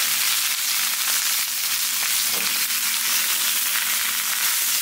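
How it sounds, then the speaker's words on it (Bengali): Cauliflower and potatoes sizzle in hot oil, giving a steady, loud, crackling fry with no pause and occasional sharper pops near the pan. "তেলের উপরে ফুলকপি আর আলু দিয়ে দিলাম।"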